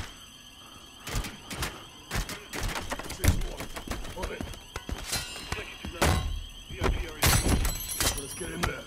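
Door breach in Modern Warfare 3, with a series of sharp thuds, bangs and crashing impacts scattered irregularly over several seconds amid game clatter, loud and close.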